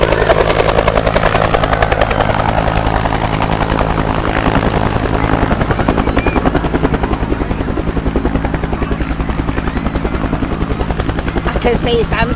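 A Vietnam War veteran Huey helicopter comes in close with a loud, continuous rotor thump and turbine whine that fills the whole stretch, with people talking faintly underneath.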